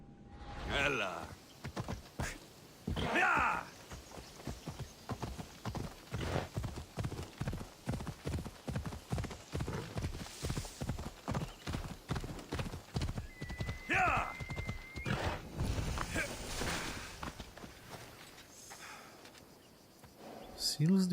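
Horse hooves clip-clop in a steady trotting rhythm in the video game Assassin's Creed Odyssey, close and even, with a brief whinny partway through and someone speaking over the gameplay.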